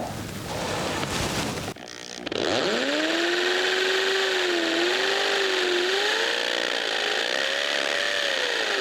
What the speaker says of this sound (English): now we're doing our holes with a hammer drill and a masonry bit